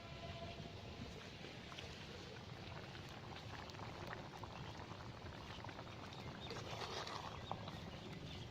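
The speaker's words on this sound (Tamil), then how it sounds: "நல்லா கொதிக்கிட்டோம்." Country chicken curry boiling in a covered pot, with a faint, steady bubbling and simmering hiss that continues evenly throughout, with no one talking.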